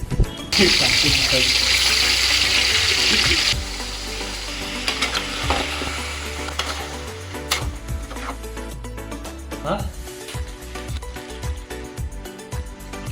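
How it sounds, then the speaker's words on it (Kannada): Chicken tipped into a hot pan, a loud close sizzle for the first few seconds that fades to quieter frying with clinks and scraping of stirring. "ಇವಾಗ ಫ್ರೈ ಮಾಡ್ತಾ ಇದ್ದೀನಿ ಮಾಡಲಿಟ್ಟಿದ್ದೀನಿ ಚಿಕನ್ ಹಾಕ್ತಾ ಇದ್ದೀನಿ"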